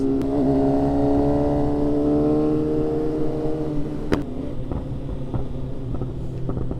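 A BMW S1000RR motorcycle engine roars loud and close, a sustained droning note that falls slowly in pitch, then a sharp pop and a rougher, uneven rumble.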